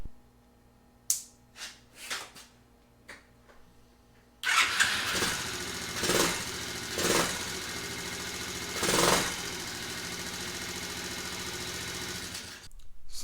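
A small 70cc Chinese ATV engine, long neglected and freshly cleared of dirt dauber nests in its exhaust, sputters through a few tries, then catches and idles with a buzzy, steady drone, briefly revving in swells before cutting off.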